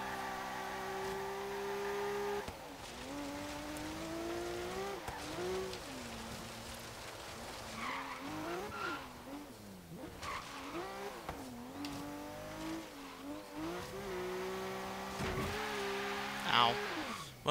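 A 1980 Subaru BRAT GL racing an autocross course in Forza Horizon 3, its engine note rising and falling steadily through gear changes with brief tire squeals, heard under continuous talk.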